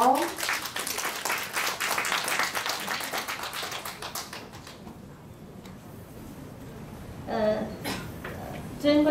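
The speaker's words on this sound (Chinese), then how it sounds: "让我们热烈的掌声来欢迎我们李立宏" Audience applause at a cross-strait marriage and family business seminar, welcoming a speaker: brisk, dense clapping for about four seconds that fades into a quieter room, with a voice speaking near the end.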